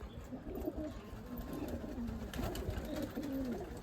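Andhar pigeons cooing close by, soft repeated throaty coos rising and falling over a low background hum, with no talk.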